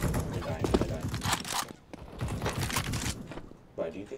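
Continuous gunfire in the game CS:GO comes as two long, dense bursts of rapid shots with a short gap between them and a brief burst at the end, while a person talks over the shooting.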